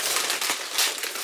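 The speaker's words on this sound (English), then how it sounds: "I'm going to unwrap number 4." Crinkling wrapping paper being torn and crumpled as a small wrapped package is opened by hand, close-up and busy for about a second.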